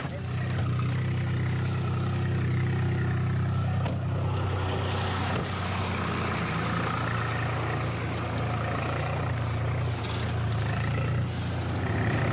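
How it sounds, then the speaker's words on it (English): A heavy truck loaded with sand rumbles past on a road in India, its engine loud and close throughout with a steady low drone that barely changes. "that was just a truckload of sand that's just gone past us"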